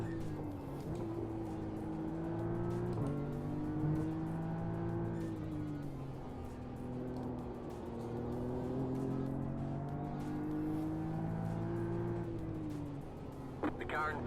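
GT3 race car engines in a racing video game, a steady droning whine that rises and falls with gear changes throughout, a nearby car passing at times, with a commentator talking over it continuously.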